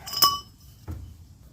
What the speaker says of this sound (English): A couple persuasive taps with the sledgehammer, and we're on our way.